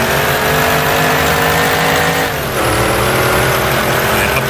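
A 1927 Delage 15 S8 Grand Prix race car in Assetto Corsa, its engine loud and close with a dense harmonic drone that dips briefly as the driver lifts and shifts, then pulls again steadily.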